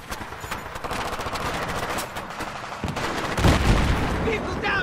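Dense gunfire during an ambush in the video game Battlefield 3, continuous rattling automatic fire with bursts and a heavier boom midway, loud and steady, with shouted voices mixed in.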